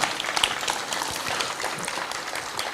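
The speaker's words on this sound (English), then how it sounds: "I think they deserve a round of applause, ladies and gentlemen" An audience at a foundation-stone laying ceremony for a city project gives a round of applause, steady, moderately loud clapping with a few sharper individual claps standing out.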